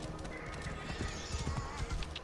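Rhythmic hoof clip-clops with a horse whinny in the video game Assassin's Creed Origins, set against a busy, noisy backdrop.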